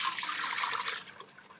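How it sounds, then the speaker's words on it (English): Steeped grain liquid is poured into a brewing pot for an American porter/wheat beer, giving a steady splashing pour that tapers off near the end. "Now you want to just really, once you've steeped that, add this liquid to your pot."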